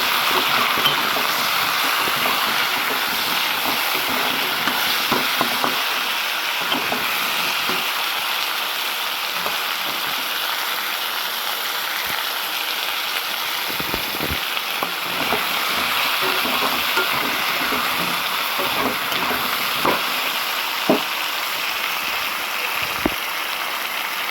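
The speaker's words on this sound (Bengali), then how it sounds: "এবার আমি এগুলো একটু নাড়িয়ে চাড়িয়ে ভেজে নেব।" Kohlrabi and mixed vegetables stir-frying in a pan for a home-style fish curry, giving a steady close sizzle with scattered scraping clicks of stirring throughout, no talking.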